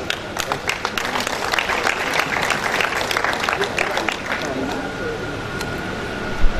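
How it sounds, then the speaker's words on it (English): A room full of people clapping steadily at an inaugural lecture, loud and sustained, gradually thinning toward the end. "A round of applause, a serious round of applause for him."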